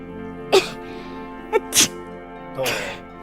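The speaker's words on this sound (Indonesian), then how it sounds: "Kamu kok bersin-bersin tuh kan?" A person sneezing indoors, three or four short sharp bursts spaced unevenly over a few seconds against a quiet background hum.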